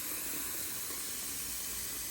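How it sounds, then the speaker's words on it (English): Water runs steadily from a kitchen tap into a cooking pot, a continuous close rushing hiss with no break and no talking. "First, start by filling your pot of water all the way up."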